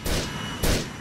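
Two loud, sharp sniper rifle shots from GTA IV, about half a second apart, each a broadband crack with a booming low tail and no talk.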